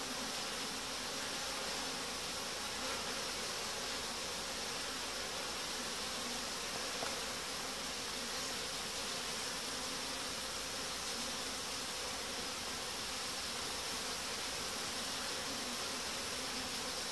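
Honeybees buzz around hive frames in a reorganized colony after merging, a loud, continuous swarm hum filling the whole stretch with no talking.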